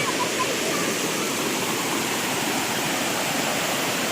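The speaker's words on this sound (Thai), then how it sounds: "อันนี้เป็น น้ำตกสามลันนะครับผม อยู่อุทยานแห่งชาติ ทุ่งกระบากระใบนะครับผม" Sam Lan waterfall in Thung Kabin Kabai sanctuary roars loudly and steadily, a dense continuous rush of falling water with no pauses or voices.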